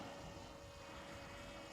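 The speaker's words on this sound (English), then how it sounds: "now we can send the drone up" A DJI Mini 5 Pro drone lifting off produces a steady, faint propeller whine with a constant tonal hum over broadband rushing noise, heard on its own without talk.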